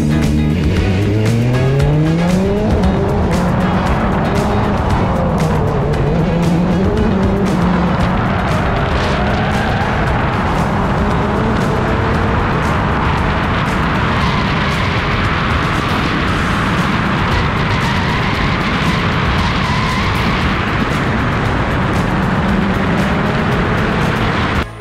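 Rally car at full attack on a Sardinia rally stage, heard onboard: loud continuous engine roar rising through gear changes, with tire squeal and gravel noise throughout, no talking.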